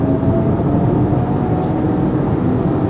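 Artificial exhaust tone from the active sound design of a Hyundai Kona EV, heard from inside the cabin as a steady low hum mixed with road noise, moderately loud and unchanging, much like a subway train, with no talking.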